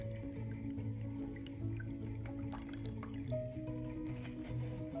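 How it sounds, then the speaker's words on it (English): Acetic acid is poured into a flask, giving a faint steady trickle with scattered small drips and gurgles over a low background hum, with no voices. "pour 50 milliliters of acetic acid into your metric flask"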